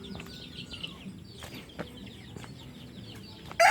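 Fighting cocks on a farm give several short clucks and calls over quiet background noise, ending in a sudden loud burst.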